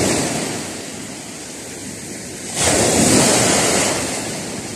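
Ocean waves roll and crash nearby at sea, a broad rushing surge building midway as the waves rise, with wind buffeting the microphone.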